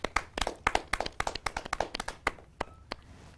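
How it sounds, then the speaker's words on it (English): A small audience at a boutique fashion show claps for a model: sparse, distinct handclaps at close range that thin out into a few scattered claps toward the end. "let's have a round of applause for Eileen."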